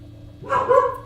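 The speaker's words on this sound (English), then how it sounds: "Scared dog." A frightened dog gives a short burst of close barks and yelps over a low steady hum, loud and brief.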